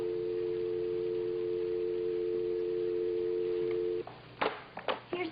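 A steady telephone line tone hums for about four seconds, then cuts off, followed by a few faint clicks and bumps.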